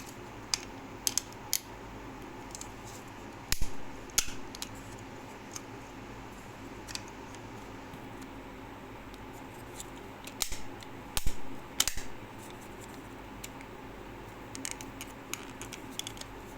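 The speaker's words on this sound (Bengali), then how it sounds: "তাহলে আমাকে বসাতে হবে কভারটা এইভাবে।" A plastic cover is pressed onto a water heater switch, giving scattered small plastic clicks and snaps, some louder snapping pairs, over a quiet steady room background with no talking.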